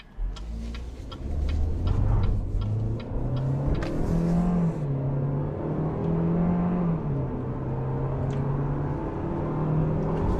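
A 2022 Chevrolet Equinox engine revs up and accelerates in front-wheel drive mode, its rising drone shifting pitch through the gears, with ticking clicks early on and slight wheel slippage.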